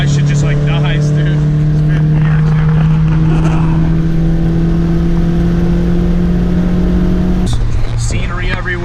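A modified 220+ hp 2008 Honda Civic Si accelerates hard at highway speed. Its loud, droning engine note climbs steadily for several seconds, then drops sharply at a gear change near the end.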